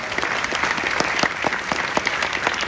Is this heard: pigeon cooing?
no